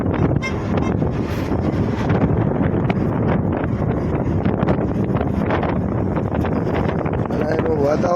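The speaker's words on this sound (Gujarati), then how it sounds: "એ મસ્ત ઠંડી ઠંડી હવા આવે છે" Cool wind blows hard across the microphone outdoors near Jalgaon city, producing a constant loud roaring buffet with rustling gusts that runs through the whole stretch without letup.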